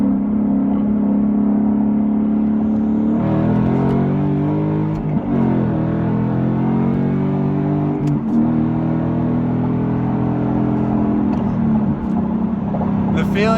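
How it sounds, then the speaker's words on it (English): A 2015 Ford Mustang GT fitted with a Roush Stage 1 supercharger kit accelerates loudly, its engine tone climbing and shifting through several gears with steady, close, droning power. "So today we are driving a 2015 Mustang that has the Roush Supercharger on it,"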